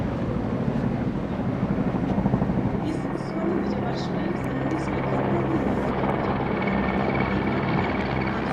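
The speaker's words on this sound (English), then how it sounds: "The Rudra formation will be followed by the Sudarshan formation, consisting of 1 Chinook and 2 Mi-17 helicopters" Loud, steady rotor drone of a Chinook and two Mi-17 helicopters flying overhead in a Republic Day flypast, a continuous low thrumming roar with distant voices faintly audible beneath it.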